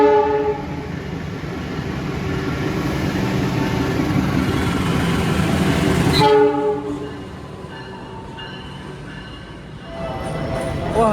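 The KA Ranggajati economy train passes close by, its horn blaring in long tonal blasts over a loud rolling rumble of wheels and carriages, with a second horn call near the end.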